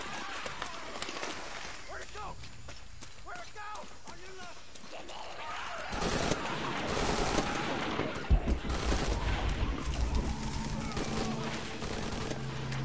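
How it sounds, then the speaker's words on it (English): Gunfire in Shadow of the Tomb Raider, with scattered shots and rattling bursts rising after a quieter stretch, partly distant, mixed with running and in-game voices talking. "Let's wait till they're done shooting."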